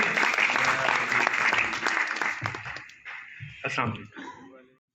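Loud audience applause at a farewell party, dense and sustained before thinning into scattered claps and fading out, with voices faintly mixed in.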